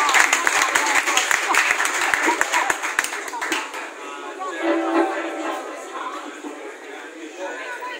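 Applause from a concert crowd at a tribute show, sharp individual claps at first that thin out, then fade into crowd murmur and voices.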